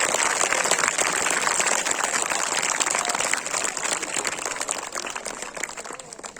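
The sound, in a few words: audience applause for a student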